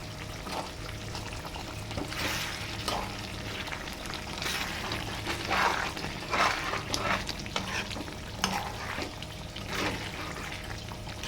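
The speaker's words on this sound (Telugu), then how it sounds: "ఇప్పుడు మనం ఒకసారి కలుపుకుందాం." Chicken curry stirred in a pot, with a spoon scraping and splashing through the thick, oily gravy in repeated strokes over a steady bubbling simmer, up close with no voices.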